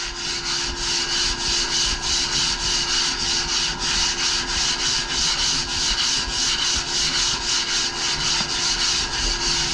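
A surfboard is sanded with 40 grit sandpaper on a block, loud, close and continuous, in steady back-and-forth rasping strokes with no talking.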